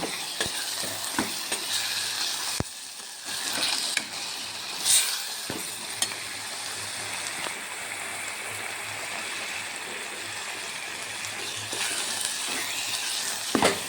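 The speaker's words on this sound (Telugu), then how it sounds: "ఆకుకూర ఆయిల్లో బాగానే ఉడికిపోయింది" Ponnaganti leafy greens frying in oil in a pan, a steady close sizzle and hiss that runs throughout, broken by occasional scraping stirs and clicks of a spoon against the pan.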